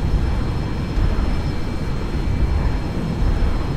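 A Cirrus Jet in the X-Plane 11 flight simulator gives a steady, broadband engine roar that holds at an even level throughout, with no voices.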